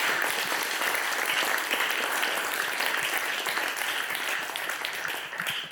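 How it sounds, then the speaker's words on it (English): A lunchtime audience at an e-commerce talk gives a warm round of applause, dense continuous clapping at full volume that fades slightly at the end. "Can everybody please give Jonathan a warm round of applause?"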